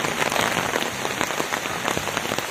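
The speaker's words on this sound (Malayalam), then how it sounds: "ഇവിടെ നല്ല മഴയാണ്" Heavy rain pours down on the island of Lakshadweep, a dense, steady hiss of drops hitting surfaces close around the listener, with no voices.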